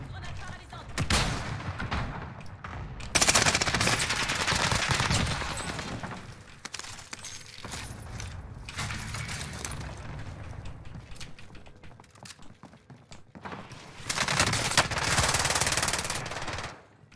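Rapid automatic M4 rifle fire in a multiplayer shooter video game, loud dense bursts separated by short quieter gaps, with game effects around it.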